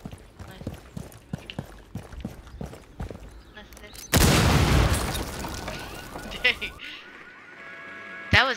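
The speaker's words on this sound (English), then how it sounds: "A huge explosion." A huge explosion goes off in a video game: after a run of sharp clip-clop taps, a sudden loud blast erupts and its roar decays over several seconds, followed by fainter crackles.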